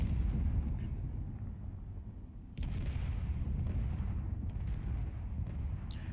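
Rockets and weapons fire in the space combat game Space Engineers, heard as a dense, steady low rumble of explosions with a sharper burst partway through and faint crackles, continuous and without speech.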